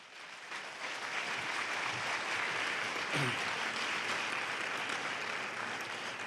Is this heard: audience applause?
yes